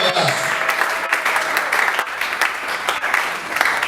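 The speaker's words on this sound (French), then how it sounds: "nous allons acclamer pour nos diplômés" A church congregation applauds its graduates, a steady, dense wash of clapping hands that fills the room from start to finish, with a few voices mixed in.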